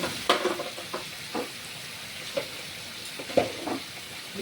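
Chicken grilling over an open fire, quiet crackling sizzle with scattered pops and spits at irregular intervals, fairly faint and close.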